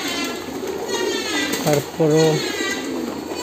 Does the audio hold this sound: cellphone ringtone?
no